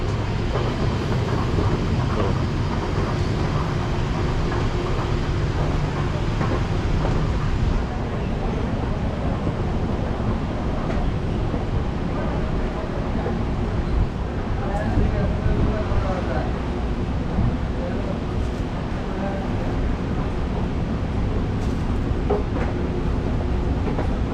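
Steady rumble and rattle of an MRT metro train running on rails in Malaysia, heading to Sungai Buloh, continuous and loud throughout, with faint voices mixed in.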